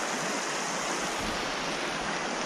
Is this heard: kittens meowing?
no